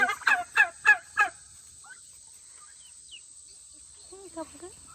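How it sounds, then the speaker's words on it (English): Several turkeys gobble in quick succession, four loud rippling bursts, followed by quieter scattered bird calls in the background. "A lot of turkeys."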